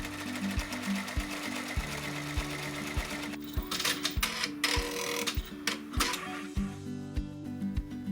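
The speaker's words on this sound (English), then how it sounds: "then sew the tack down stitches" An embroidery sewing machine runs steadily as it stitches tack-down stitches around a fabric mask, its needle knocking in a fast, even rhythm close up and alone.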